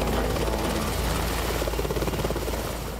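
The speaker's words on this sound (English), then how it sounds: "What we have is 6 helicopters going to be picking up our downed pilot, the F-15 pilot." A helicopter flying during filming of a rescue scene for a fighter pilot movie: loud, steady rotor chop with a rhythmic pulsing thrum close by, sustained for three seconds without a break.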